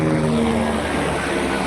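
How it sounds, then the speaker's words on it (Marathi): A pilgrim helicopter on the Amarnath Yatra route drones with a steady, loud rotor and engine roar close by, with no talk. "हेलिकॉप्टर"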